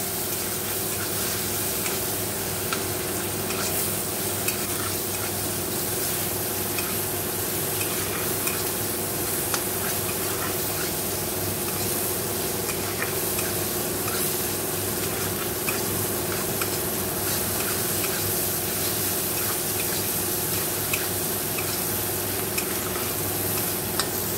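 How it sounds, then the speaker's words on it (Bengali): Fish coated in salt, turmeric and a little sugar frying in hot oil with cumin, garlic and chilli, a dense steady sizzle that carries on close and unbroken, with faint stirring and no voices. "দেখো, নুন হলুদ মিষ্টি দিয়ে এবার এটাকে ভালো করে ভাজা ভাজা করে নেবো।"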